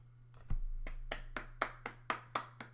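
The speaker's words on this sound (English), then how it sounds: "Claps" Clapping from a small group of hands, about nine crisp, evenly spaced claps at a moderate pace, close and fairly faint over a steady low hum.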